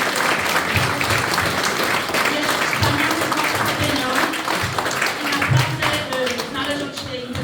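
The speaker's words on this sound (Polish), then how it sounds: "Bardzo proszę o wielkie, wielkie prawa, brawa dla pani Ewy" A crowd applauds steadily for several seconds, with a voice speaking over the clapping.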